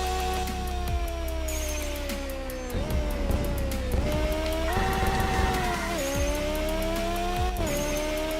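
A racing car with short gearing in a racing video game accelerates hard. Loud engine tone climbs steadily and drops sharply at each of several upshifts, with faint tyre noise underneath.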